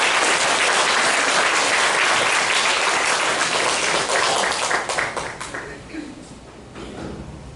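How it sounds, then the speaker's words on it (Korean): A church congregation at a Sunday service claps loudly for a member's family, dense applause that holds strong for several seconds then thins out into scattered claps and fades. "우리 황현중 집사님 가정을 위해서 큰 박수를 부탁드리겠습니다."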